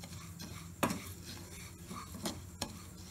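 Mustard dal and spices being stirred and roasted in a pan for mango pickle, with a spoon scraping and clinking against the pan in a few sharp knocks over a soft background hiss.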